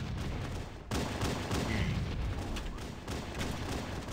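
Shotgun fire in the Halo CE Slayer match on Hang Em High comes as rough, noisy blasts and crackling bursts amid dense game action, moderately loud, with a sharp dropout and then renewed firing.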